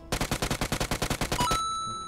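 A rapid burst of about a dozen automatic gunshots in a multiplayer shooter video game, evenly spaced and loud, ending abruptly with a fading tail.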